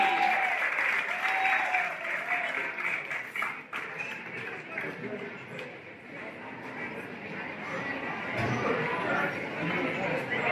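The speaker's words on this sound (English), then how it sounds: "Come on guys, let's give Jacqueline a big round of applause." Audience applause and clapping break out at a rockabilly festival pinup pageant in Southport, Australia. The applause is loud and sustained across the whole clip, mixed with crowd chatter and cheering voices.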